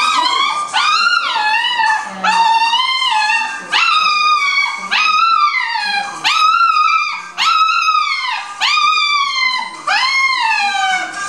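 A dog howls along to a song, giving about nine loud, close, wavering yowls in a steady rhythm, each rising and then falling, with no talk over them.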